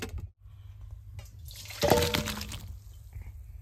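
Hot water is poured off freshly boiled olives, making a short, faint liquid splash and trickle that swells briefly and then fades, with no talk.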